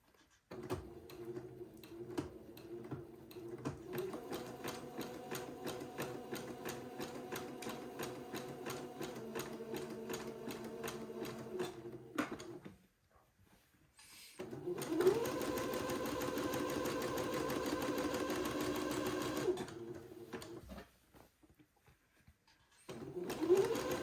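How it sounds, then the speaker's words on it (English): A domestic sewing machine runs steadily as it zigzag stitches a seam finish on a daygown, with two sustained bursts of fast, even mechanical whirring separated by short pauses, then a brief restart at the end. "So I'm going to zigzag that seam together."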